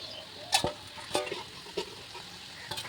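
Potatoes fry in a pan under a steady, faint sizzle, and a spoon scrapes through them four times in unhurried, evenly spaced strokes close by.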